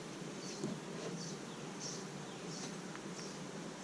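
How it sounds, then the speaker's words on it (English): Honey bees inside a newly installed hive make a faint, steady buzzing hum, with individual bees flying close past now and then against a quiet outdoor backdrop. "quite a few bees"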